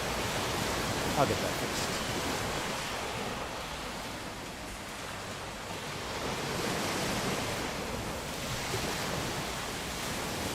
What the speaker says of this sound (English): There's the ocean again.